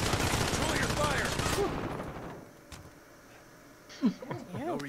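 Call of Duty Warzone squad match gunfire: a heavy, continuous burst of automatic shots fills the first half, then fades to quieter game ambience with voices and sound effects toward the end.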